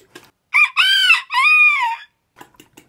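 A rooster crows once, loud and close, in a long two-part call, while chickens give a few faint clucks before and after.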